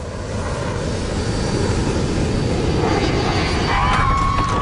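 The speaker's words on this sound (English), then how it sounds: "A passenger jet filled with French families is plunging toward the Red Sea." A passenger jet plunges in a steep dive toward the Red Sea, a loud, continuous roaring engine and rushing air sound that holds steady throughout, with a rising whine near the end.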